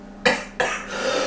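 Two harsh, close coughs from a man, a quick pair about a third of a second apart, each trailing off into quiet breath.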